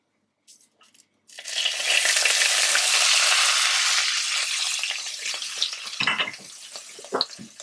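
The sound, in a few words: very hot oil poured over ketchup and ingredients, sizzling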